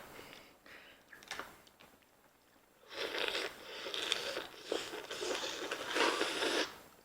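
Someone eating Dungeness crab makes wet slurping and crunching sounds up close. Quiet crinkles come first, then denser, louder slurping in the second half.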